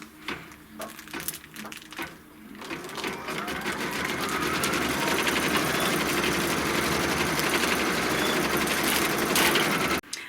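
A sewing machine quilting with white thread runs in a fast, continuous mechanical rattle, starting in short bursts and then holding a loud, steady drive until it stops abruptly at the end.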